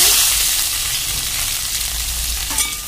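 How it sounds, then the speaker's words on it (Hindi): Chopped cucumber fries in hot oil in a wok, a steady hissing sizzle close up with a brief clatter near the end. "तेल हमारा गर्म हो गया है, अब सबसे पहले हम अपनी जो खीरा कटी हुई थी उसको डाल के"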